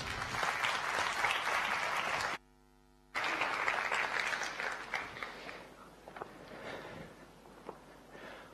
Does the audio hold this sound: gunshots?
no